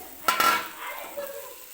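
Fried potatoes are tipped into masala in a pan, giving a couple of quick clatters and scrapes followed by faint stirring and soft sizzling, close by.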